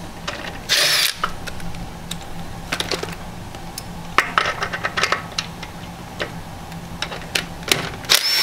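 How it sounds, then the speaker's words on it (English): Tightening a caliper cover onto a Tesla brake caliper gives a series of small metallic clicks and ratcheting taps, closely miked and intermittent, with a few louder bursts over a steady low hum. "tighten that caliper cover down"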